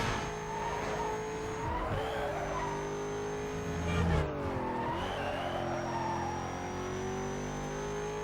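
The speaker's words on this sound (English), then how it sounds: "Just simply taking to the dirt and having hardly any control over my car." A race car in Need for Speed: Most Wanted (2005, PS2) slides across dirt, with a continuous engine drone and tire skid noise that swells briefly mid-clip, loud and unbroken throughout.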